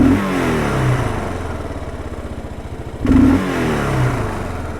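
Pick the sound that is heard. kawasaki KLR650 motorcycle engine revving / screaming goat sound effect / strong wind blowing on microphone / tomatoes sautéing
kawasaki KLR650 motorcycle engine revving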